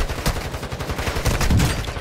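Rapid video game gunfire in a battle royale match, a dense run of automatic shots hammering steadily for two seconds, loud and close with no talk over it.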